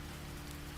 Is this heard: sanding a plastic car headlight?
no